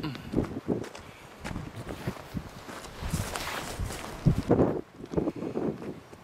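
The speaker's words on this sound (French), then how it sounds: "désolé pour les bourrasques de vent" Strong gusts of wind at altitude buffet the microphone in irregular bursts and rumbles on a Corsican hillside near the ruins of an abandoned village, loud and uneven throughout, with no talk over it.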